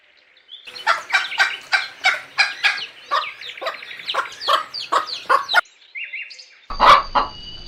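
A hen clucks in a rapid series of about a dozen sharp, close clucks in an uneven rhythm, then pauses before a final louder squawk.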